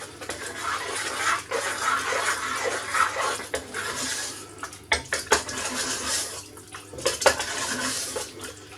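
Water splashed into a jar of sauce to rinse it out while making homemade lasagna, heard as sloshing and clinking glass in a kitchen, with sharp knocks around the middle.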